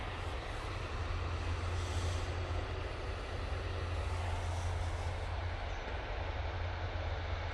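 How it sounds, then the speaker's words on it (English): An EasyJet Airbus A320 from Geneva, on short final into Manchester Airport, gives a constant low, droning engine rumble with a faint hum, steady and moderately distant. "we do have an EasyJet on short final"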